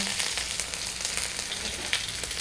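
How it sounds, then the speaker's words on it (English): Ginger, asafoetida powder and black pepper sauté in a hot pan, a steady close sizzle with faint stirring crackles and no voices. "Saute it up a little bit here."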